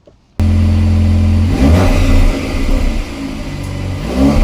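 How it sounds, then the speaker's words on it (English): A car with a factory sports exhaust starts and roars loudly, revving up and settling into a deep, rumbling idle close by. "it's got a sports exhaust, so it sounds amazing from the factory. Take a listen."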